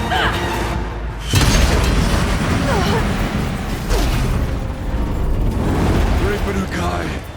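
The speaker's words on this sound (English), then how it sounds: "I need explosive ammo!" Explosive ammo detonating in Horizon Zero Dawn's Frozen Wilds battle: a sudden heavy boom followed by rolling, crackling blasts and rumble, loud and close, with a character shouting over the noise.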